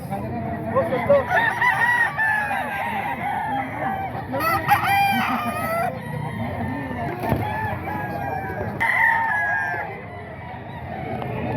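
Roosters crow repeatedly and chickens cluck at a poultry sale, with a busy crowd murmuring and people talking underneath throughout.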